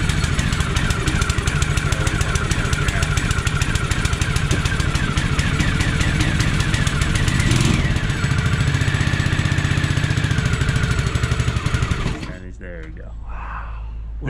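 A small gas engine powering a Jaws of Life rescue tool runs loudly with a fast, steady putter, rattling on for several seconds before it cuts out abruptly.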